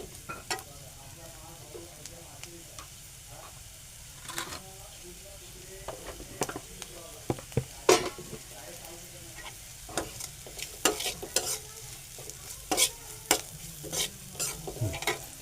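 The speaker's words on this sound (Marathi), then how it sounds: "कांदा आपण चांगला परतून घेऊ." Onion sautés in a pan with a soft continuous sizzle, broken by frequent sharp scrapes and knocks of a spatula stirring close by.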